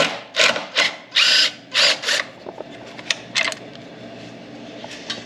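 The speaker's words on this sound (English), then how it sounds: "Got a nice handy impact wrench." An impact wrench rattles off bolts on a Jeep during a rock slider install, firing about five loud, sharp hammering bursts in quick succession, then a few softer, shorter clicks and taps.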